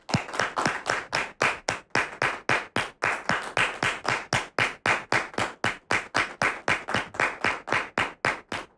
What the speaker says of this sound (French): merci de la recevoir sous vos applaudissements